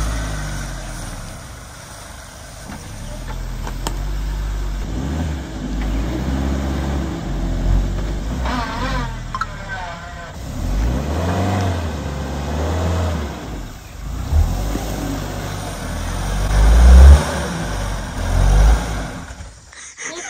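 A Suzuki 4x4 engine revs hard while crawling over rough offroad ground, its mid-pitched drone rising and falling in repeated surges, loud and close, for about twenty seconds.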